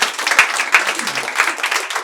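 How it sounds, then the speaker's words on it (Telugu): A stand-up comedy crowd claps in a dense, steady burst of applause for about two seconds, many hands close together with no voices over it. "Clap once."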